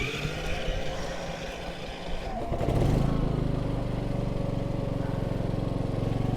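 Harbor Freight Predator 5000 inverter generator running on propane cranks briefly and catches, then settles into a loud, steady close engine drone, with no talk over it.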